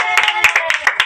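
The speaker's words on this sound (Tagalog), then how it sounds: "Palakpak!" Audience clapping after a contest ends, a burst of several quick rhythmic hand claps, close and fairly loud, with the tones of a voice running through them.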